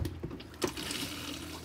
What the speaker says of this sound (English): Just fill the bowl up a couple inches.